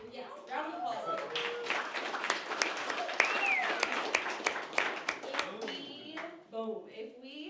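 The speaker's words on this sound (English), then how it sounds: "Yes, round of applause." Applause from a team meeting crowd fills the room, a dense patter of many hands clapping steadily throughout, with voices talking and cheering underneath.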